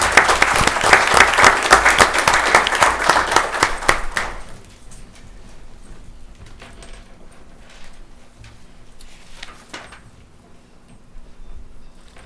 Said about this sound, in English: can we please give our Clayton County employees a round of applause